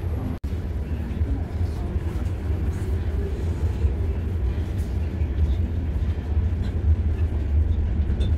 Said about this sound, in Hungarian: közben itt jön be valami vonat